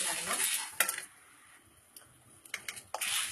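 Dried red chillies and cumin are stirred while they roast in a hot pan, with a soft dry sizzle that rises and falls and several sharp metallic clinks and scrapes of a spoon against the pan.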